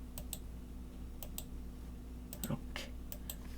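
Computer keyboard keys pressed during word-processor work, a few sharp clicks in small pairs and clusters, fairly faint over a steady low hum with a brief murmur near the middle.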